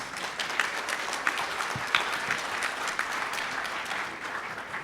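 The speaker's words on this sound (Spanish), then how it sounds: "Un aplauso, por favor, para Luis." Audience applause at a petrochemical conference panel, a moderate, steady patter of clapping hands from a medium-sized crowd, fairly even throughout with a few sharper individual claps standing out.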